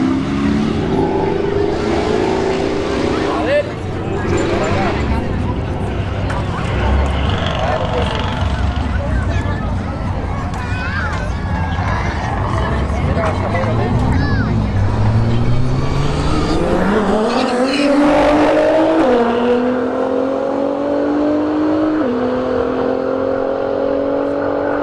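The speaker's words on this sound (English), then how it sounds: "We got a C8 in the right lane and a Nissan GTR in the left lane." Corvette C8 and Nissan GTR drag racing at a Bradenton Motorsports Park street heat event: loud engines roar and rev through rising gear sweeps, shifting pitch as they pull away, with an announcer talking over them.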